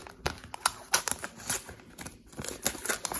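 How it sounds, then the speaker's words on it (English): Scissors snip and crinkle through plastic packaging around a Magic: The Gathering artist proof card, a run of close, light cuts and rustles at low volume with no talking. "Let's get the scissors."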